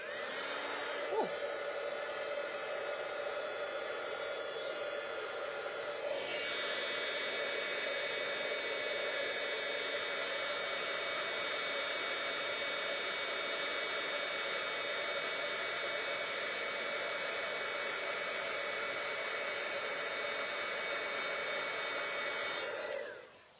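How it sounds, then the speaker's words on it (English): A heat tool blows hot air over a stamped card for embossing, giving a steady, loud, close whoosh that runs unbroken for over twenty seconds before cutting off. "use my heat tool"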